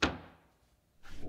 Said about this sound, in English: it's worth testing the doors before you move forward